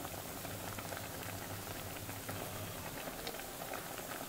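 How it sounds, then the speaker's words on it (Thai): Chayote and straw mushroom soup boiling steadily in a pot, a continuous soft bubbling and patter with no break across the clip. "ก็รอมันเดือดนะเจ้า"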